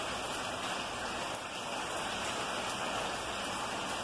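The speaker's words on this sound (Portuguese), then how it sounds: "É muito bom o barulho da chuva" Continuous afternoon rain makes a thick, steady patter and hiss as drops land on nearby surfaces, constant throughout, with no voices.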